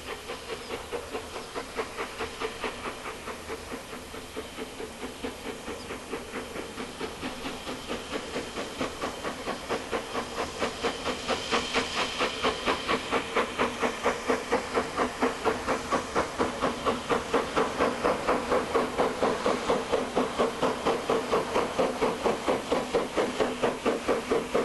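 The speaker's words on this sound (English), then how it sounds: "Standard class 4 engine there." A BR Standard Class 4 steam locomotive passes on the Keighley and Worth Valley Railway in 1997, with steady rhythmic chuffing over a constant hiss that grows gradually louder and nearer.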